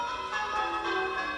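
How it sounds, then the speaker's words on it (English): Church bells recorded at a Cotswolds church ring out on playback at a wedding in Kent, a steady, fairly loud wash of overlapping bell tones with no talk over them. "They recorded the bells from this church in their hometown in the Cotswolds and had it played back"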